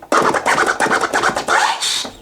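A fast, continuous run of DJ boomerang scratches on a turntable at full speed, rapid choppy swipes blurring together over about two seconds, loud and up close.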